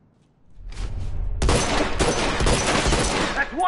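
Rifle gunfire in The Last of Us erupts after a quiet start, a dense, loud burst of shots and blasts running continuously to the end of the clip, with a faint voice underneath.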